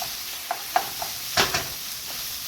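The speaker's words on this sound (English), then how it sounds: "And then when I put the zucchini in" Zucchini sautés in a pan with a steady close sizzle, punctuated by a few soft stirring scrapes and taps, with no talking.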